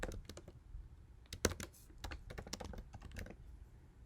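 Keys clatter on a computer keyboard as an email address is entered on an account form, in quick, irregular bursts of close, soft clicks with one sharper tap.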